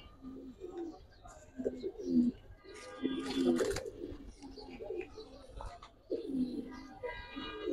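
Giribaz pigeons coo repeatedly at close range in a loft, soft low rolling calls recurring every second or two, with faint voices and small knocks in the background.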